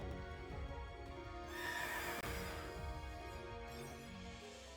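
A ghost steed horse in Pokémon Sword's Crown Tundra gives a loud whinnying neigh that rises and trembles for a couple of seconds over steady game background music.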